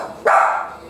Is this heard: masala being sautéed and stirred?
no